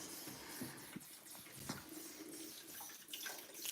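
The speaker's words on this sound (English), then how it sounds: "You're going to get a drink right out of the faucet?" A kitchen faucet runs a thin, steady stream for a cat to drink from, with faint splashing and dripping close by and no talking.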